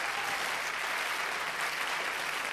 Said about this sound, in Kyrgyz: кол чабуулар сизге.